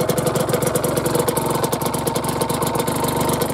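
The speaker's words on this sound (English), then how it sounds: "I like this two-stroke sound so much." A two-stroke Aprilia RS 125 Tuono motorcycle engine with original exhaust idles close by, a steady, loud burbling putter with a rapid, rattly pulse throughout.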